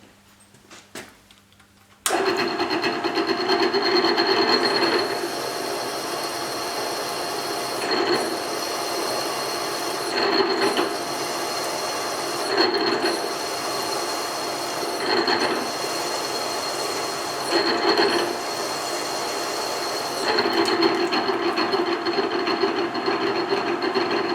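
A continuous grinding, rasping sharpened Nachi drill bites into metal with no pilot hole for a long stretch, with periodic surges and brief dips in intensity, loud and close.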